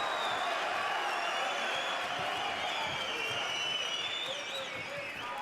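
Fight crowd at an FNC 21 event in Zadar cheers and applauds steadily, a dense wash of voices and clapping that holds at a constant, fairly distant level throughout.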